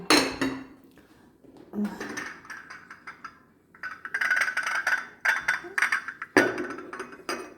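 Porcelain tea cup and saucer set being handled, with light clinks and knocks of china scattered through the clip, partly under nearby talk.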